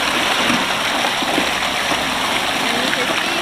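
Water rushes steadily through a gold sluice wash box at an Alabama gold camp, a loud, close, continuous splashing flow that masks any other sound.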